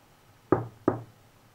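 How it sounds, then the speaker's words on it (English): Two crisp tapping knocks on a surface, evenly spaced and fairly close, each decaying quickly against quiet background hiss with no talk. "Okay, Tom, I'm going to tap again."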